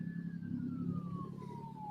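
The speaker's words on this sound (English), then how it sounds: "Those sirens." An emergency vehicle siren wails faintly in the distance, one long tone sliding slowly downward, over a low rumble of traffic.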